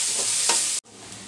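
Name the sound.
sliced onion and garlic frying lightly in a pan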